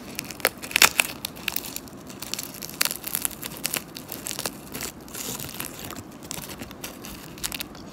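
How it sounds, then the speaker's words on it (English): A piece of dried seaweed snack is torn in half close up, giving soft crinkling and crisp tearing crackles in irregular bursts over several seconds, with no talking. "Now let's try to half this piece of seaweed."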